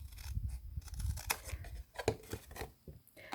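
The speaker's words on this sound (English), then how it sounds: "we're going to cut that there." Scissors snip through paper in several quiet, close cuts, with soft rustling between them.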